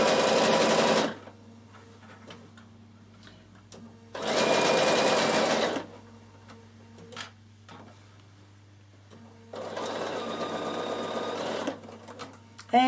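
A Bernina sewing machine stitches a dress side seam with a pocket insert, three loud steady runs of rapid whirring separated by quiet pauses, close to the listener and with no talk.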